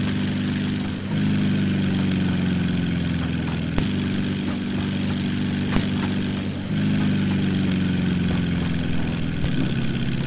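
The simulated engine of a Brill railbus in Trainz 2019 rumbles steadily as it revs down, a low droning idle with gentle pitch sags and faint ticks, no talk.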